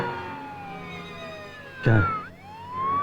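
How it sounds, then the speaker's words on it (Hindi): An ambulance siren wails with a sliding, rising-and-falling pitch, with a loud vehicle burst passing close midway through; a voice briefly asks a question. "एम्बुलेंस में सायरन होती है, सायरन के बजने से रास्ता मिलता है।"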